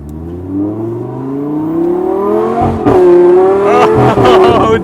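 A Lamborghini Huracán STO sports car, rear-wheel drive, accelerates hard through a drift U-turn, its engine revving steadily upward through the gears with a loud, close rasp and tire noise, growing louder toward the end.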